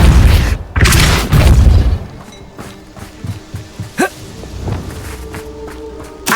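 The Depulso spell is cast in Hogwarts Legacy: loud booming blasts at the start, then lighter thumps and clicks of in-game movement.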